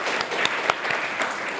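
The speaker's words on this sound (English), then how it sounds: "Of course, round of applause first to Imogen and to, oh my God, Trish." An audience at the 2017 Australian Women in Wine Awards ceremony claps in a dense, steady round of applause, with a few sharper individual claps standing out.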